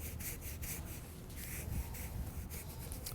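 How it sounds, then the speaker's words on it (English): Car floor mat carpet scrubbed with a brush to lift grime, soft rhythmic back-and-forth rubbing strokes repeating steadily at close range, fairly quiet, no talk. "I'm scrubbing straight back and forth."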